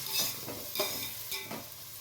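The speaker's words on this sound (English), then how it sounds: "Fry the onions on a low flame until they all turn golden brown" Chopped onions fry on a low flame with a soft continuous sizzle, punctuated by several rhythmic scrapes of a spoon stirring through them, fairly faint and close with no talking.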